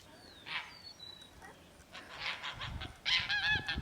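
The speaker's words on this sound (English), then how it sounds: "This is why we got geese. Hear all that noise they're making?" Several geese raise alarm honks in short, loud bursts at a moderate distance near a garden, with quieter gaps between calls and some outdoor background noise.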